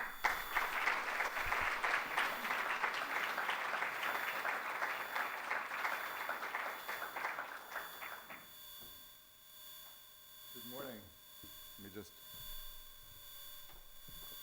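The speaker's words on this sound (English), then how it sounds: "Welcome him with a huge round of applause, Dr. Marc Lepere." Audience applause at a business school ESG summit, steady broadband clapping filling roughly the first eight seconds before fading, followed by quieter room tone with a brief voice.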